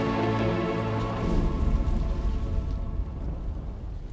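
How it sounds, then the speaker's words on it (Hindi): Heavy rain pours down steadily as a dense, close hiss, with a low rumble of thunder rolling beneath it; no voices are heard. "प्रतीत हो रहा है तीव्र वर्षा आने वाली है"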